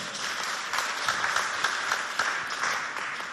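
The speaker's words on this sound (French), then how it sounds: "On applaudit bien fort" A crowd applauds steadily at a school prize-giving, with dense clapping throughout and a few louder claps standing out.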